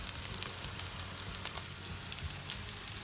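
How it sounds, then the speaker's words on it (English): Sauce boils and sizzles in a pan over the heat, a dense, continuous crackle of bubbling and spitting heard close up with no talking. "So our sauce is boiling there, so we're just gonna leave it off to the side."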